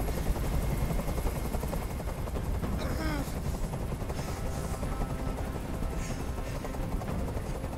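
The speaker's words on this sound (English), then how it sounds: "Tell that helicopter to get out of here." In the video game Detroit: Become Human, a helicopter hovers overhead with a loud, continuous rotor chop and rumble, and a voice speaks briefly over it.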